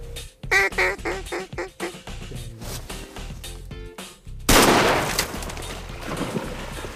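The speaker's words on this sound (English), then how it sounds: "All the ducks flushing now." Ducks quack in a rapid, noisy series on a waterfowl hunt at a river bend, followed by a sudden loud burst of flushing wings and splashing that settles into a continuous rushing noise.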